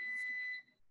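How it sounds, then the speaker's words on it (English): A dishwasher sounds its end-of-cycle alert: one steady electronic beep, clear and moderately loud, holding for about half a second before cutting off into quiet room tone. "Sorry about that beeping."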